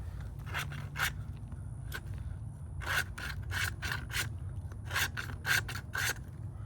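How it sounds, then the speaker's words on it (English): A file or deburring tool rasps against the cut edge of a pipe, rounding and beveling it, in a few quick strokes and then repeated bursts of close, scratchy scraping over a low steady background hum. "Get these edges rounded so it doesn't cut the glue that's going in"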